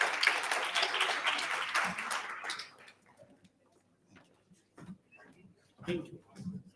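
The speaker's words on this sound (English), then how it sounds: "A round of applause, please." Applause from the audience at a BRICS Youth Summit in South Africa rings out loudly for about two and a half seconds, then quickly dies away, leaving scattered faint claps, shuffling and brief low voices.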